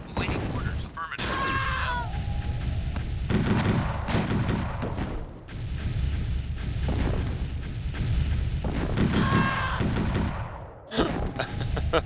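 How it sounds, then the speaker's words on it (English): Dense, continuous rumble of explosions and gunfire from a Tiberium strategy video game, booms piling on one another, with brief voiced unit responses cutting through. "So many explosions!"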